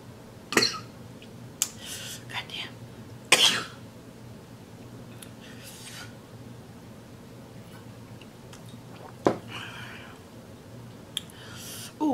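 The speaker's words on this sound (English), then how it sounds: "I felt like that coughing was so loud." A few scattered coughs and throat-clearing bursts, loud and close, separated by long quiet stretches with faint background hum.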